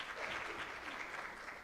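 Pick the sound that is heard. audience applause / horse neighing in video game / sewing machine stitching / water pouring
audience applause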